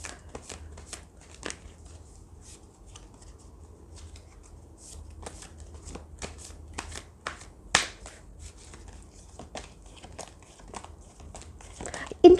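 Tarot cards are shuffled during a reading, giving a soft, continuous patter of crisp riffles and flicks that sounds fairly close and quiet throughout.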